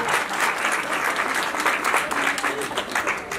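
A hall audience claps enthusiastically at a programme on child rights issues, producing dense, continuous applause with no let-up from start to finish.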